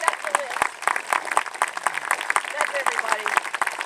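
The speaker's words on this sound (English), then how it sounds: "Now you can applaud." Audience applauding outdoors at a park fountain rededication ceremony, a steady patter of many hands clapping across the whole stretch, fairly close, with a voice briefly audible underneath.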